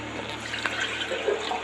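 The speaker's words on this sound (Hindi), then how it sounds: "थोड़ा सा पानी और डाल दूँ," A little water is poured into a pot of spiced potato curry made with buttermilk: a soft, steady trickle and splash close by for under two seconds, with kitchen hum beneath and no speech.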